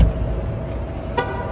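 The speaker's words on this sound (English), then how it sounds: "And lock the car." A Mercedes-EQ EQA 250 locking at a charging spot, giving two short horn chirps, the second clearer, over a low steady outdoor hum, heard fairly close with no talking.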